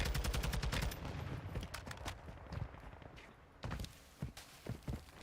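Small-caliber gunfire in the battle royale game Warzone, with a rapid automatic burst at the start and then scattered single and double shots at moderate distance.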